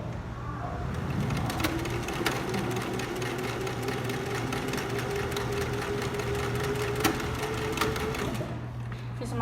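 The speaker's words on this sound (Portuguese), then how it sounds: "Aqui eu vou fazer a costura para prender o elástico na lateral." A sewing machine stitches elastic at the side of pajama shorts in one steady, continuous run of rapid needle rhythm that stays close and level throughout.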